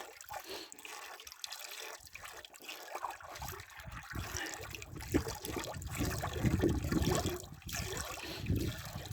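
Copper sulfate solution is poured into lime for Bordeaux mixture and slowly stirred, giving a close, continuous liquid trickle and sloshing that grows busier toward the end, with no talk.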